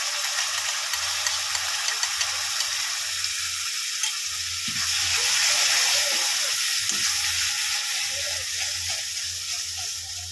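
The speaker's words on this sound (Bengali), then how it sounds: "এখানে দেখুন পেঁয়াজটা ভালোই ভাজা হয়ে গেছে।" Onions fry in a pan on low flame as yogurt is added for dahi bhindi, giving a steady close hiss and sizzle with a few soft stirring knocks and a brief swell of bubbling.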